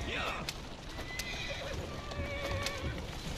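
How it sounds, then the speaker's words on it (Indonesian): A horse whinnies loudly and hooves clip-clop in Assassin's Creed Syndicate, set in Victorian London, with game ambience and a voice talking over it. "Kuda ya, naik kuda lah."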